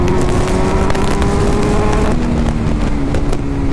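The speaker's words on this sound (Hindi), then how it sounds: "बहुत ही ज़्यादा लाउड करता भाई एरो का एग्जॉस्ट, फुल सिस्टम पूरा कान में लगता है" A motorcycle with a loud Arrow full-system exhaust roars continuously at close range, a strong steady engine drone with a slight drop in pitch midway and no talking.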